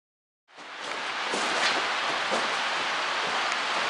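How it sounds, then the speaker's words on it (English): Steady heavy video game rain hiss starts abruptly after a brief silence and continues evenly, with faint soft taps scattered through the downpour. "it's like raining really hard"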